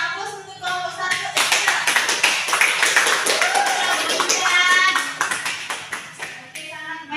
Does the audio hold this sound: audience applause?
yes